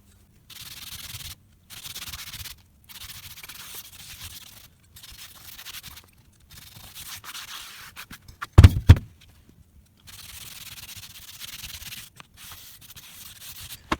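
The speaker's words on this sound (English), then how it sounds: "I'll buff them up and clean them because they're looking a bit crusty" Rusty car parts from an E36 328 being buffed with an old sock, repeated close scuffing rubs in bursts of a second or two separated by pauses, with a couple of louder knocks midway.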